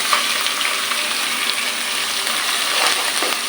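Ginger, garlic and onion paste frying in a pan, a steady close sizzle with soft crackle that holds even throughout, no voices over it.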